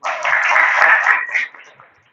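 Classroom applause breaks out among students, a short burst of light clapping that holds for over a second and then trails off into quiet.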